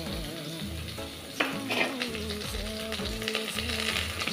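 Mutton pieces dropped into onions frying in oil in a pressure cooker for Nepali-style gravy, a sharp burst of sizzling followed by steady crackling frying with stirring clinks.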